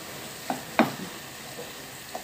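Stirring food frying in a pan with cumin, a few soft scrapes and light clatters over a low, steady sizzle, close and fairly quiet.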